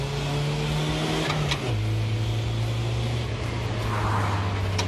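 A race car tears down the straightaway, its engine holding a loud, steady roar that drops a notch in pitch as it shifts and keeps pulling hard.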